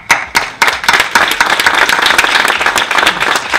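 Audience at a coin of the year awards ceremony breaks into applause, a few separate claps swelling into dense, loud, sustained clapping from a crowd.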